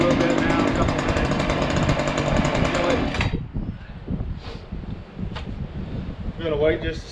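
A loud, buzzing Black Max chainsaw engine runs nearby for a few seconds, then drops to a rougher, quieter idling rattle with wind noise.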